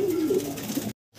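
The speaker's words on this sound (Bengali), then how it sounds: "দেখেন কবুতরগুলো এক জায়গায় স্থির হয়ে দাঁড়ায় না, একদম ছোটাছুটি পারাবাড়ি করতেছে।" Pigeons, including white pigeons kept for sale, coo in low throaty rolling calls close by for about a second before the sound cuts off abruptly.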